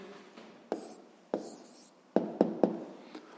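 A pen or pencil writes an answer by hand on paper, with soft scratchy strokes broken by a few sharp taps, close and quiet, with no talk.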